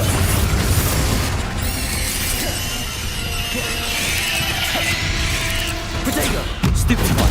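A Confringo fire spell blasting during Hogwarts Legacy combat, a loud burst followed by crackling, whooshing magical effects and another sharp impact near the end, over steady game noise.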